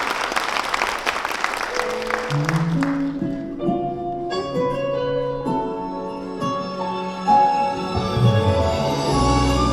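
Audience applause at the opening of a Korean lecture, a burst of clapping that fades within a few seconds and gives way to music with sustained tones.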